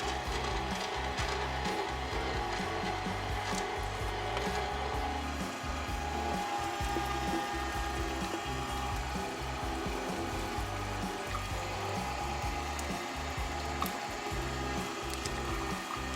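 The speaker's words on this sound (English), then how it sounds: "I've got the meat ground up" A meat grinder working through brisket trim with habanero peppers dropped into the chute, giving a steady, dense mechanical grinding and churning that runs loud and unbroken for about sixteen seconds without any talk.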